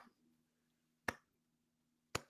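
Two slow, sharp hand claps spaced about a second apart in a quiet room, with a faint low hum underneath.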